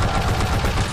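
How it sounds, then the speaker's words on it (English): Weapon gunfire from the Call of Duty video game, a loud rapid burst of shots lasting under a second with no talk. "Infinity Ward painstakingly recreated the sound of each weapon at different distances"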